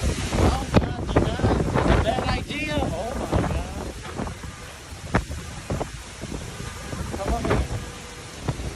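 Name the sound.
storm wind in a New York video clip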